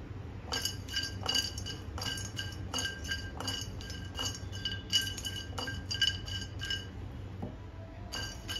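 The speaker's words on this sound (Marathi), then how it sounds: "आता यात हिंगाचे खडे भाजून घेते." Asafoetida lumps roasting in a pan for Malvani masala clink and rattle in quick repeated bursts as they are moved around, with a low background hum and no talking.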